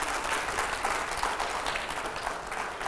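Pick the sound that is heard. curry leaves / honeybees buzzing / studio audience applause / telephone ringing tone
studio audience applause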